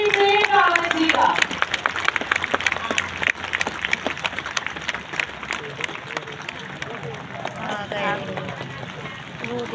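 Audience applause in a large hall welcoming Prem Rawat at a Hindi-language event, a dense steady wash of clapping and crowd noise that fades gradually under ongoing background chatter.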